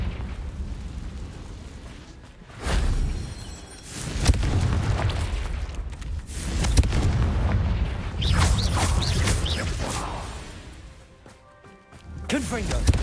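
Confringo fire spells burst repeatedly in Hogwarts Legacy combat. Loud booming blasts come in several waves, and spoken incantation and game voices run over them.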